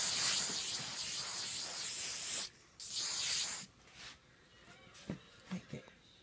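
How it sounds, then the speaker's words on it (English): An aerosol can of oil sheen sprays onto a scalp during hair styling in two steady hissing bursts, followed by softer handling noises and small taps. "now I'm going to spray my oil sheen on her scalp"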